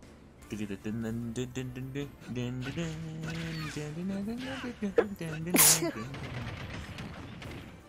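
A single sharp sneeze bursts out near the end, following a stretch of close, steady talking.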